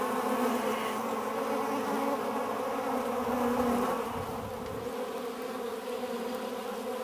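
Honey bees buzz steadily near a wheel bug preying on them, a dense, continuous hum close by that eases slightly partway through.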